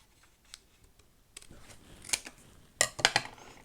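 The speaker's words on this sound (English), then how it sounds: "And I'll cut this bit off." Scissors snip through paper in a quiet craft setting, a few faint cuts followed by several sharper, closer snips near the end, with no talking.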